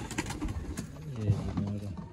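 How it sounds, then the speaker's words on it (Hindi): Lakha pigeons coo in a low, soft rolling murmur, several overlapping calls close by, with faint background voices. "ये उनके लाखे कबूतर हैं।"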